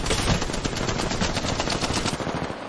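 Rapid automatic gunfire from the video game Apex Legends rattles in a dense, continuous burst of closely spaced shots, loud and with almost no talk over it.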